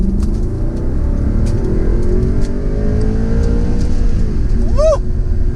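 An Audi R8 Spyder accelerating in normal mode while merging onto a highway, its engine note a steady, loud drone that builds throughout, with road and wind noise; a brief high chirp rises near the end.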